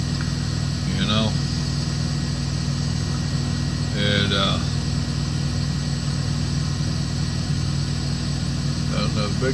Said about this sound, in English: Another big truck pulling in beside me there.